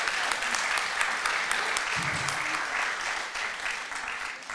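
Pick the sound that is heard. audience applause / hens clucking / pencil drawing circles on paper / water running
audience applause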